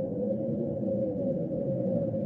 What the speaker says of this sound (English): This is what Jupiter sounds like.